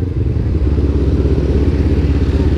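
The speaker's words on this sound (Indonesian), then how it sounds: "Nah sama halnya kayak ZX25 yang aku cari itu suaranya 4 silindernya itu." A Kawasaki Ninja ZX25R four-cylinder motorcycle engine rumbles up close and loud, a steady throbbing drone with a fast even pulse and no talking.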